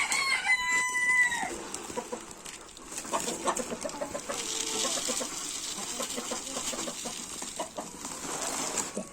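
A flock of Leghorn chickens in a garden clucks busily at feed time, close and continuous, with a rooster-like crow rising early on amid the overlapping chatter of the hens.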